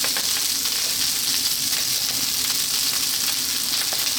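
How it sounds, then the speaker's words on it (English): Cold rice and vegetables with garlic and ginger stir-fry in a pan over high heat, a dense, steady sizzle that runs loud and unbroken throughout, with no voices. "Keep going for about 4 to 5 minutes. Stirring all the time."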